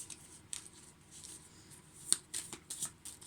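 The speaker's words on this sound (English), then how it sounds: "I'm going to shuffle again," Oracle cards being shuffled by hand, soft papery riffles and flicks in quick bursts with a few sharper snaps, close and quiet in a still room.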